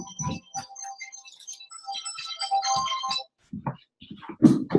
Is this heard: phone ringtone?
yes